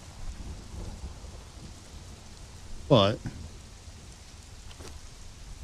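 A rainstorm in the game Conan Exiles: steady soft rain hiss throughout, broken by one sharp sudden crack near the middle and a fainter one later, with a brief spoken word.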